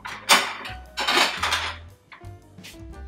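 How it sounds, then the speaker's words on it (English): A spoon scrapes around a hot skillet while a butter roux is stirred for seafood gumbo, in several loud, close, sweeping strokes separated by short pauses. "The roux, you have to continuously stir it."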